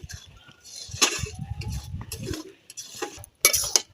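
A spoon scrapes and clinks against a pot as chunks of bottle gourd are stirred into boiled lentils for Bengali lau dal, a few irregular knocks and wet scrapes, close and moderately quiet.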